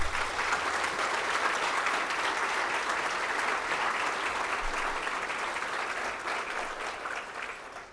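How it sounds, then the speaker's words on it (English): Sustained audience applause at a mayor's 2024 State of the City address: thick, steady clapping from many hands that holds level, then begins to thin and fade near the end. "Now let's give them all a round of applause."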